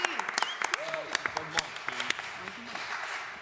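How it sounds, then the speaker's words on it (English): An audience applauds a speaker at a talk, with scattered claps and sharp individual hand strikes standing out against a room where voices keep talking over the clapping throughout. "One more round of applause, please, for Mike."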